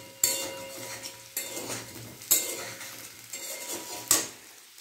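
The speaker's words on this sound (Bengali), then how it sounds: "আলুটা ভাজা হয়ে গেছে অলমোস্ট" Potatoes frying in a pan in a home kitchen, with a soft background sizzle broken by four sharp clatters of a utensil scraping and stirring against the pan, fairly close and without talk.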